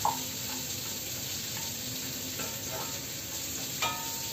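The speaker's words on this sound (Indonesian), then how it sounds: "Ini udah diiris sekarang. Kita oseng-oseng." Sliced ingredients being stir-fried in a pan for a home-cooked lunch, a quiet continuous sizzle with soft scraping from stirring and a brief clink near the end, no voices.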